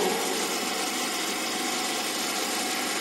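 A DC motor spinning at its rated 1500 rpm on an electrical machine lab bench gives off a steady, loud, unbroken whir and hum with no change across the whole stretch and no voices.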